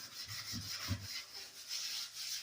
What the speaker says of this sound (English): Now we got it sanded.